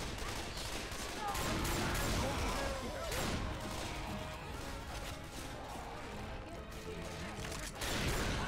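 Dense gunfire in the zombie shooter Left 4 Dead 2, a continuous barrage of overlapping shots and crashes, fairly quiet and steady throughout, with voices mixed underneath.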